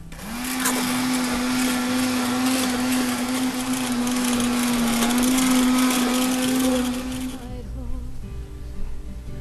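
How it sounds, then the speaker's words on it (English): Immersion blender whirring steadily through wild leek and potato soup, a loud continuous motor drone with a sustained hum that cuts off near the end, leaving quiet kitchen ambience. "Use the old trusty turbo blender in it."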